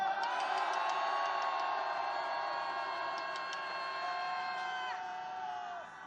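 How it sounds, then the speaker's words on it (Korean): Crowd at a candlelight protest rally raising a sustained mass shout and cheer, dense and loud throughout, with whoops rising above the roar before it tapers near the end. "함성 시작!"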